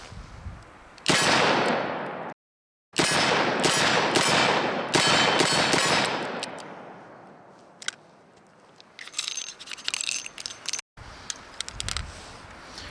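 A Smith & Wesson 686+ seven-shot .357 Magnum revolver with an internal lock fires .38 Special rounds. Several loud, sharp reports come in quick succession, then a short pause and another string of shots, followed by fainter clatter.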